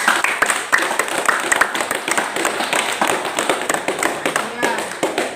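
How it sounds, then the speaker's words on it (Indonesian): A classroom claps for a student group after its presentation, a burst of dense, close hand clapping from many pupils that holds steadily for several seconds. "Berikan aplaus kepada kelompok 3."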